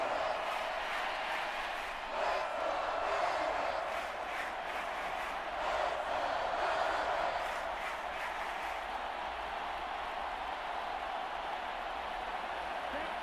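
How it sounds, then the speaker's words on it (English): Simulated stadium crowd roaring steadily in a Madden NFL 24 football game between the Packers and Lions, a dense, continuous wash of cheering that swells slightly midway, heard alone without commentary. "this crowd trying to force a false start here"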